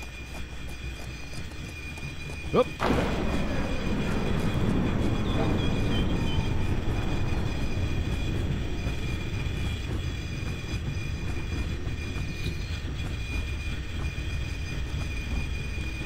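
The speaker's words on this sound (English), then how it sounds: "It sounds like the train." A train passes in the video game Infra, building to a loud, sustained rumble with metallic squeal after a brief thump. The sound then holds steady through the rest of the passage as a voice briefly exclaims.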